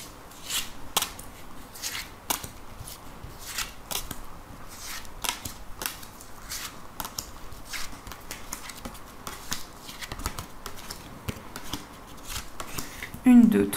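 Tarot cards are shuffled and drawn in a rapid run of light riffling snaps and flicks, close and steady throughout, with a voice talking over them.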